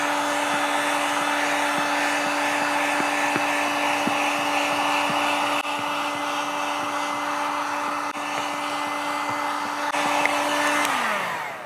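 Heat gun blowing hot air to shrink 70% sputter window tint film onto car glass, a steady close whooshing hum lasting several seconds before winding down at the end, with faint taps under it.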